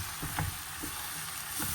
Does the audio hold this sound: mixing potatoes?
yes